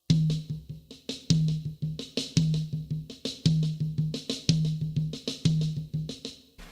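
Drum kit rudiment pattern with the right hand moving around the toms, played as a steady, loud, repeating sequence of sharp hits with a recurring booming low tom accent roughly once a second, no voices.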